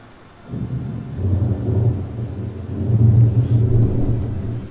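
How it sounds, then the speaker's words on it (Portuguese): Thunder rolls in a deep, sustained rumble that swells and stays heavy, loud and near, with no voices over it. "Eu vi o trovão duas vezes!"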